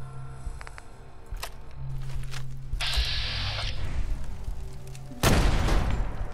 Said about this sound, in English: we'll just detonate it